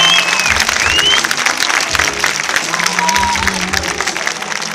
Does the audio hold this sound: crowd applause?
yes